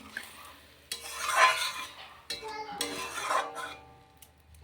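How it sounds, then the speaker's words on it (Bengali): Chopped onions fry in a pan with cumin seeds, ginger and garlic paste, giving two bursts of hissing sizzle with stirring scrapes and clinks, near and moderately loud, easing off between stirs. "পেঁয়াজ ভেজে দিই"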